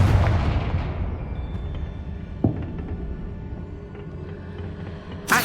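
A Confringo blasting spell going off in the Hogwarts Legacy video game: a heavy booming explosion that rumbles and slowly fades, then a smaller bang midway and another sharp burst at the end.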